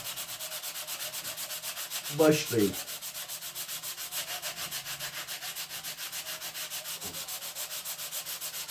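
Sandpaper rubs across the puttied hull of a wooden ship model in steady, close strokes, with a brief louder scrape early on and a few words spoken once.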